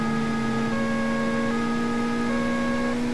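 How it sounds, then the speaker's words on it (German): Police siren in the video game Cobra 11 Burning Wheels, a steady electronic wail with sustained tonal lines running unbroken over a constant hiss of road and engine noise, moderately quiet and with no one talking. "Und jetzt machen wir die Sirene aus"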